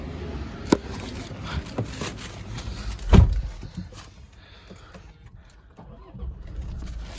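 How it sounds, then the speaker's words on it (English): A 2021 Toyota Fortuner starts up from inside the cabin, giving one short, loud crank-and-catch burst in the middle, with quieter thumps and faint idle around it. "So here the car comes to life."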